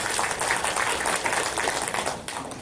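Audience applause welcoming a speaker at a housing-management academic presentation in a hall, a dense, steady clatter of many hands clapping close by for the whole stretch, easing slightly near the end.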